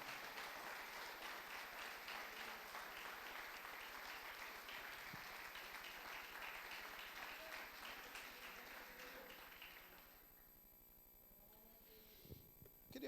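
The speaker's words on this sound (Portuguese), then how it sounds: "Você pode aplaudir o Senhor?" A church congregation applauds during a service, dense sustained clapping that fills most of the stretch before thinning out near the end, with a few faint sounds after.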